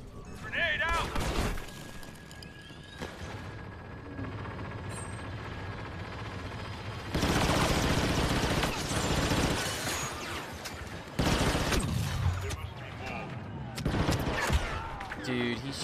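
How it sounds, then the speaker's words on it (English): A PC multiplayer shooter plays loud bursts of automatic gunfire with sustained rapid volleys and some single shots, with a player's voice talking over the game audio. "he's just shooting through the bushes"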